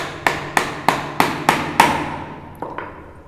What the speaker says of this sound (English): Hammering in this down.